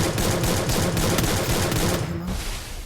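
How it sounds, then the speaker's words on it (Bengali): Rapid gunfire from the Free Fire video game sounds as a dense, loud, continuous volley of rattling shots for about two seconds, then cuts off abruptly and leaves quieter background noise. "আমি ফায়ার তো দিচ্ছি সমানেই"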